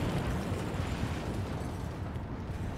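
A nuclear bomb detonates in Hearts of Iron IV, a single dense, rumbling blast that fills the low end and holds steady as a loud, continuous roar with no voices over it.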